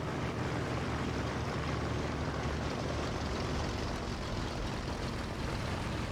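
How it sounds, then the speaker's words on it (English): Enemy aircraft in the War Thunder tank game sweep in as a loud, continuous broadband roaring drone, with no talk. "Yep, here comes the planes."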